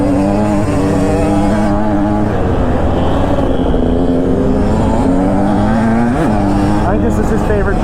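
A two-stroke dirt bike engine screams and revs on a motocross track, its pitch rising and falling with throttle changes, loud and close, with a voice talking over it.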